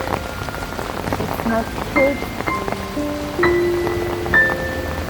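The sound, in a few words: heavy rain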